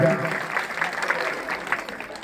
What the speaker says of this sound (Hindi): जोरदार तालियों से स्वागत कीजिए प्रदीप शर्मा जी का